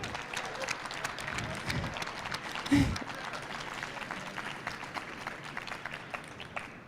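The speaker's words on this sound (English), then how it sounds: "If we can give Shane a round of applause as well." Audience applause at a literary book event honoring an award-winning poet, a steady crowd of clapping hands sustained throughout, with a brief louder thump near the middle.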